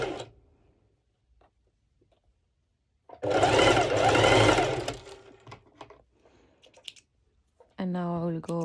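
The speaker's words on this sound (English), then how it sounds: "afterwards I'll be serging the 4 layers together" A serger stitches four layers of lycra together in a short burst of close, whirring stitching lasting under two seconds, surrounded by quiet handling clicks, then a voice speaks.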